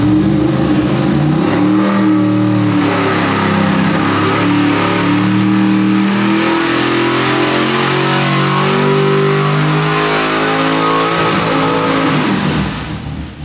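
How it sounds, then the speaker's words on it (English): A 1,000hp 632 cubic inch Big Block Chevy engine revs hard on a dyno, a loud, sustained roar that climbs and holds near the rev limiter for about thirteen seconds before cutting off at the end. "so it's actually hitting the rev limiter"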